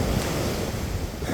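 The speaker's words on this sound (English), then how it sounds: "So the waves are quite far in today. So much wind, tons and tons of wind." Ocean surf rolls in on a beach while strong, gusty wind buffets the microphone, a loud, continuous roar of waves and wind with no voices.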